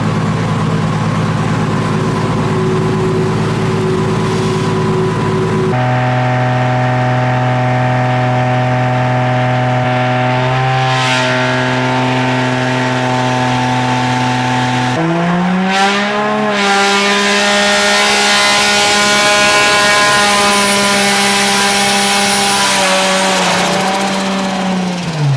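A Sonvia car engine running on the dyno during tuning at Garage 7, holding a loud steady drone that climbs through a series of rising revs before settling, close and continuous.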